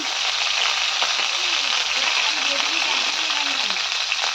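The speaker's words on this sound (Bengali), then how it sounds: "করলাগুলো একটু ভেজে নেব" Sliced bitter gourd (karela) frying in a pan of oil, a steady loud hiss and sizzle that runs without a break, with faint voices in the background.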